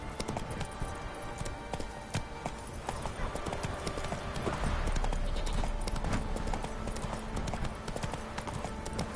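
Horse galloping in the video game The Witcher 3, a continuous rapid drum of hooves heard up close across the whole stretch, with game ambience underneath.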